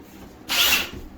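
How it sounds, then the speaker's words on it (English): A power drill whirs in one short, loud burst of about half a second during floor leveling work for a bathtub installation, with quiet before and after. "just going to take my drill"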